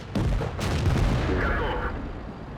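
T-54 tank cannon firing in World of Tanks, a single loud booming blast with a rolling low rumble that fades over about two seconds.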